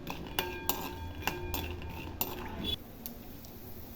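Peanuts frying in oil are stirred in a pan, giving repeated sharp metallic clinks and scrapes of a utensil against the pan over a faint background, up close and fairly quiet.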